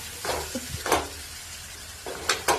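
Beetroot thoran, a Kerala stir-fry, being stirred in a pan: a quiet steady sizzle broken by several spatula scrapes and stirs in small clusters, close by and without talking.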